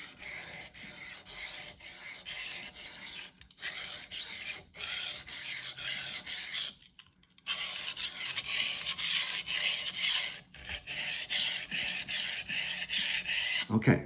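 Kitchen knife drawn across a sharpening stone at about a 16-degree angle, steady rhythmic rasping strokes with brief pauses between passes.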